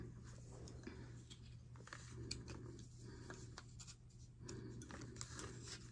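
Soft, close scratching as one blade of a pair of scissors scrapes residue off a surface, with faint, irregular strokes over a low background hum.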